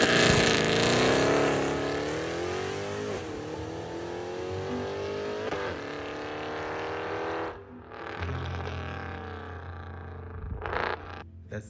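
A Mercedes C63 AMG with a naturally aspirated 6.2-litre V8 roars close by, rising in pitch through hard revs, briefly dropping off before surging again with a deep, throaty burble.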